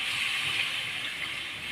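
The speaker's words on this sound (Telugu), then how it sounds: "కొంచెం వాటర్ వేసుకుందాం." Water is poured into a pan of cooking chicken curry, giving a steady, broad hissing gush that holds at an even level throughout, close up and without talk.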